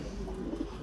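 Rooftop pigeons cooing, a short low murmuring coo close by over a steady background hum.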